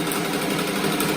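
A sewing machine runs steadily at speed, stitching around the edge of patchwork fabric scraps for a bathroom set, with a continuous close mechanical whir and no speech.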